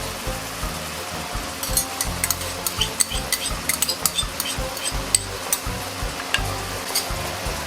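Pork and celery stir-frying in a wok with oyster sauce, a continuous close sizzle punctuated by rapid clinking spatula strokes and stirring, no talk.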